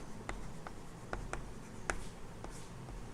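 Chalk or marker taps and scratches on a board during a class lesson, a handful of short, sharp strokes spaced irregularly over a quiet background.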